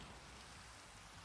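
Steady rain falling in the blocky survival game Minecraft, a dense, even hiss of drops with no break, heard alone and fairly quiet.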